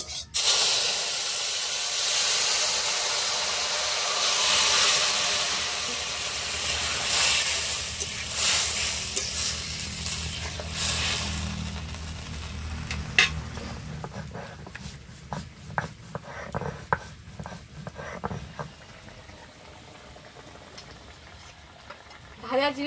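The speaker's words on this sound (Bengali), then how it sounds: "আর যেটুকু রয়েছে তার মধ্যে ফোড়ন দিয়ে দিচ্ছি।" Cumin seeds tempering in hot oil for a Bengali greens-and-fish curry, a broad steady sizzle and hiss that is loud at first, then thins into intermittent crackles and pops toward the end.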